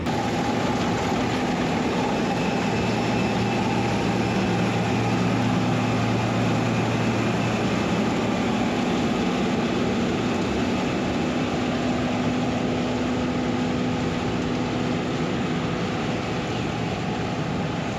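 A combine harvester running through a milo field, a steady loud mechanical drone with a low engine hum and whining tones, constant throughout with no voices.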